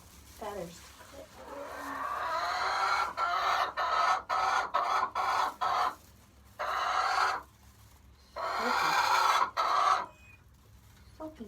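A hen clucks and squawks in close, repeated bursts while being held and handled for feather clipping, with quiet gaps between calls and faint talk nearby.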